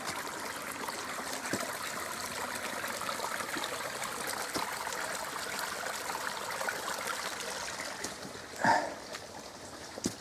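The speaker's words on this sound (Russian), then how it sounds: "Ручей такой нехилый. Вот он перетекает." A sizeable forest stream flows under a dam between two ponds, a steady close rush and gurgle of water that runs on without a break, with a brief louder splash near the end.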